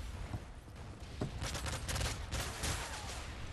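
Fairly quiet bursts of rapid automatic gunfire in the video game Call of Duty: Modern Warfare 3, crackling in short clustered volleys over a busy background with no talking.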